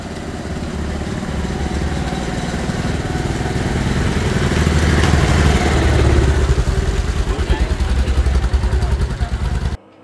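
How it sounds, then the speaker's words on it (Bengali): A motorbike rides from a hotel toward the sea beach on a Kolkata–Paradip road trip near Chandipur, its engine droning steadily with wind rush, swelling louder midway before cutting off abruptly at the end. "হোটেল থেকে বাইক নিয়ে এখন সোজা চলেছি সি বিচের উদ্দেশ্যে"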